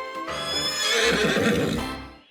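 A horse neighing in a dating sim video game, one loud, close, quavering whinny that rises and then trails off, with hoof sounds underneath.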